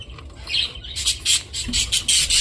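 A pied budgerigar gives a rapid series of sharp, shrill squawks and chirps, close and fairly loud, with no talking.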